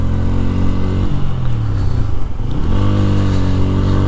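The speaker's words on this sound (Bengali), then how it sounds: "বাইকের সাউন্ড" Bajaj Pulsar N160 motorcycle engine running loud and close, its low exhaust note rising and falling through a brief rev partway through, steady throughout with no talking.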